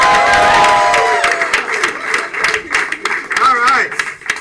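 A studio audience at the WIT game show claps and cheers to welcome a former champion, a loud, dense wash of applause mixed with crowd noise and voices.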